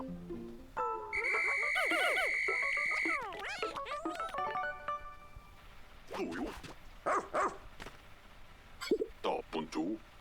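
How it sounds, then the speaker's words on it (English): A whistle blows in the video game Pikmin 4 to call a Pikmin back, a sustained bright electronic tone lasting a couple of seconds amid playful chirpy game effects, followed by short cartoonish voice sounds and blips. "Now I'll use that button to call him back to me with my whistle."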